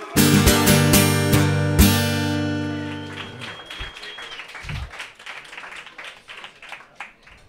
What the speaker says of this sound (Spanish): Un fuerte aplauso para Santi del Berú.